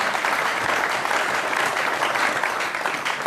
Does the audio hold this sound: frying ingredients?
no